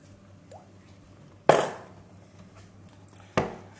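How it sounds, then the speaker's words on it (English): Soaked mushrooms being chopped with a knife on a board for vegetarian siu mai dumplings: two sharp, close cuts about two seconds apart with faint small taps between, no talking. "And then we're going to chop those up a little bit."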